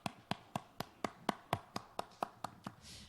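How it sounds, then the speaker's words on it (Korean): Congregation in a church giving hands to God: about a dozen sharp, evenly spaced claps in a steady beat, clear and fairly close, with no talking over them. "하나님께 영광의 박수 드리겠습니다."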